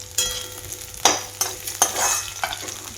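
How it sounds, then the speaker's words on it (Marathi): Green chillies and coconut roast in a pan, crackling and sizzling as they are stirred in repeated scraping strokes, close and steady throughout. "हिरवी मिरची टाकलेली आणि नारळ टाकलेलं आहे आणि हे मी भाजून घेणार आहे"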